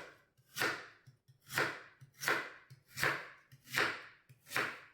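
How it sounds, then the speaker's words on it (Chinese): A knife cuts peeled lotus root into small pieces on a board with seven or so evenly spaced, crisp chops, each followed by a short pause, close and fairly quiet. "对半切开，再切成小块"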